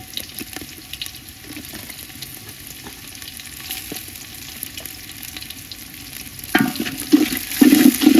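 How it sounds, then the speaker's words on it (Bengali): Onions frying in a pan for vuna khichuri and chicken curry, a steady soft sizzle with scraping stirs that grows louder and busier toward the end, no talking. "আমাদের পেঁয়াজ ভাজা হয়ে গেছে।"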